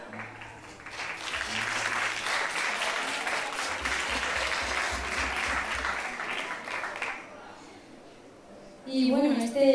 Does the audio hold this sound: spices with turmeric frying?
no